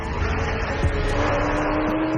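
A Lamborghini Temerario's engine gives a loud, sustained roar with a steady high pitch, revving toward 10,000 RPM, continuous throughout with no talking.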